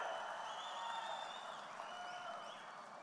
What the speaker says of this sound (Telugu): గట్టిగా చప్పట్లు కొట్టి హర్షాన్ని,